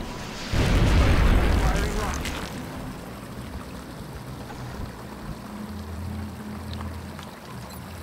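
A rocket is launched at an alien pod in XCOM: Enemy Unknown: one loud, heavy blast hits early, then a long rumbling tail fades into a low background as someone talks over it.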